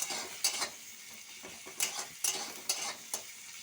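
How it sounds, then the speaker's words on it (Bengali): Onions frying in a pan make a soft, low sizzle, broken by a few bright scraping clinks of a spatula stirring against the pan. "পেঁয়াজগুলো একটু লাল লাল করে ভেজে নেব।"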